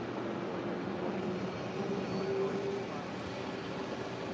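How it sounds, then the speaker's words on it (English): A United Airlines Boeing 777-200 departs LAX's south side runway 25 right, bound for Honolulu, its jet engines a steady, fairly distant broadband roar with a faint tonal whine, continuous throughout. "Next departure on 25 right here on the south side, United Airlines flight 1158 heading to Honolulu"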